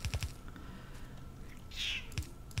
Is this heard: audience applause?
no